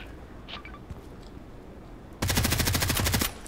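Rapid automatic weapon fire in the Contract Wars online shooter: a loud, dense burst of gunshots lasting about a second, preceded by quieter game ambience and faint clicks.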